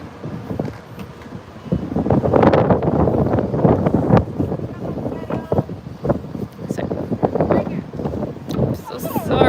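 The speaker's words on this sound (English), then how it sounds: "It's a little windy, of course." Gusty wind buffets the microphone in a steady low roar outdoors in Singapore, with a person talking over it throughout.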